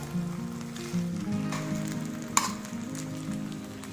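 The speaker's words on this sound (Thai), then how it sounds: "ตอนนี้ ก็ผัดอีกแป๊บหนึ่งก็ได้แล้วครับ" Minced pork fried rice with roasted chili paste stir-fried in a hot pan, a loud continuous sizzle with scraping spatula strokes and one sharp clink, close up and with no talking.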